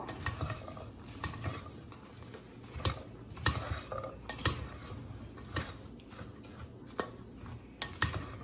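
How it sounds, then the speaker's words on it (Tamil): Crumbled white puttu being mixed with salt and chili powder in a metal pan, a run of scraping spoon strokes and sharp clinks against the pan at an irregular pace, close but fairly quiet, with no voices. "கொஞ்சம் உப்பு, கொஞ்சம் மிளகாய்த்தூள் எல்லாம் போட்டுட்டு நல்லா மிக்ஸ் பண்ணுங்க."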